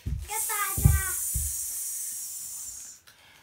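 A steady, breathy hiss like a snake's, sustained for nearly three seconds and fading out, with a few low spoken syllables at the start. It sounds like a voice imitating a snake rather than a real animal.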